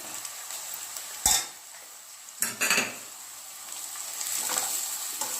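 Cabbage and egg Maggi noodles fry in a pan while a utensil stirs them, with a steady sizzle and a few sharp scrapes and clinks of metal against the pan, close by.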